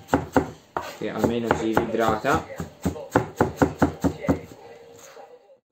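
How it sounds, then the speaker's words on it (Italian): A knife chops apples rapidly on a cutting board with crisp, steady thuds, while a person speaks over the first part. "Abbiamo tritato le nostre mele"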